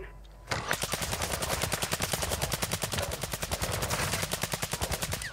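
Rapid automatic gunfire from Call of Duty Modern Warfare II DMZ, a dense evenly spaced burst of loud shots that begins abruptly after a brief quiet moment and continues steadily.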